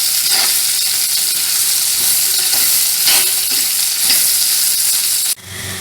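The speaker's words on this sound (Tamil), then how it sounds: "வெட்டி வச்சுருக்கிற இந்த பொடி புளியை அது கூட சேர்த்து இதையும் நல்லா அது கூட தேங்காயில் போட்டு நல்லா வதக்குவோம்." Bitter gourd frying with tamarind and grated coconut in hot oil, a loud, steady close sizzle with occasional stirring scrapes, ending abruptly near the end.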